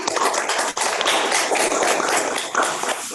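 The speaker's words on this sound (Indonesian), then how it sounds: "Tepuk tangan dulu, tepuk tangan." A classroom of students clapping hands together in a quick, continuous burst, close and loud, lasting about three seconds.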